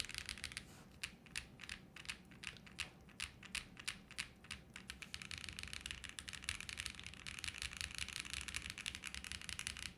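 Typing on a budget JRIS65 mechanical keyboard: dense, steady clacking of keys with occasional heavier spacebar hits, close and clear throughout with no talking.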